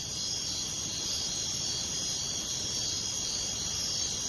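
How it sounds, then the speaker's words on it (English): Crickets chirping as a sound effect, a dense continuous high trill holding steady and fairly loud throughout with no voices. "crickets."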